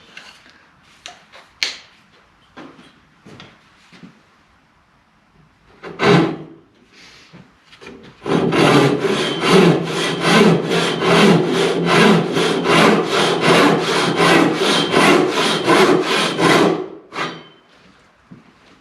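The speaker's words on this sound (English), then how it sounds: "when we do the sawing motion, we kind of hold it vertically like this and do the sawing motion up and down." A Norwegian foot saw, a frame saw with a string-tensioned blade, cuts through wood in a fast run of about twenty rhythmic strokes lasting nearly ten seconds, loud and close, after some scattered handling knocks and taps.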